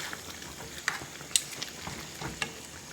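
Pork cooks in a pan with a steady low sizzle and frying crackle, broken by scattered scraping stirs and clinks of a utensil against the pan, all close and with nobody talking.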